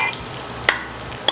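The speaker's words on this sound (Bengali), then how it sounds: "রসুনটাকেও আমি ভেজে নিচ্ছি আগে" Garlic and dried red chillies frying in a pan, a soft steady sizzle close by with two brief sharp scrapes of a utensil, no talking.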